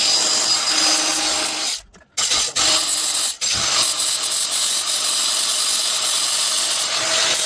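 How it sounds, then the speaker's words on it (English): A power drill bores through a cheap, abandoned pit bike frame clamped in a vise, its steady whine broken by two short pauses before it runs on continuously and close up. "I am going to drill through there"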